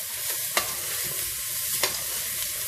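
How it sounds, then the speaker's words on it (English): Cloves and cardamom fry with onions in a pan, a dense, continuous sizzle with a couple of sharp spoon clicks as the mixture is stirred, close and steady throughout. "those are going to go in and mix and cook with the onions as well"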